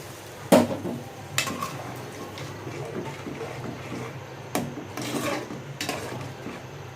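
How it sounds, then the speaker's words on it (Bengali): Chicken feet and chickpea dal curry being stirred in a pot gives scattered metal clinks and scraping rubs of a spoon against the pan, one sharper knock near the start. "এখন আমি এটার নাড়াচাড়া দিয়ে দিচ্ছি বন্ধুরা"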